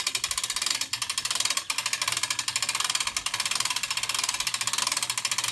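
A 1000 kg manual crane mounted on a Toyota Hilux clicks through its ratchet while lifting, a fast, even, continuous metallic clatter of pawl clicks heard close and alone.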